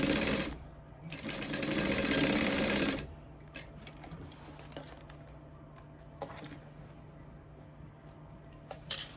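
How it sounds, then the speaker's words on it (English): A sewing machine stitches a zipper into the pocket seam allowance of a leather sling bag, one loud burst of about two seconds, followed by quieter handling clicks and small bumps. "I'm actually going to sew it into the pocket seam allowance."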